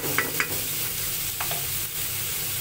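Sayote sautés in a little oil in a pan with a steady close sizzle, broken by a few light clinks and scrapes of a utensil stirring, and no one speaks.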